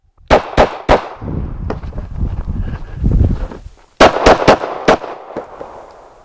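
Gunshots ring out during a concealed carry shooting drill, a quick group of three sharp loud cracks, a pause filled with rumbling noise, then another rapid string of four or five shots, close and outdoors-sounding.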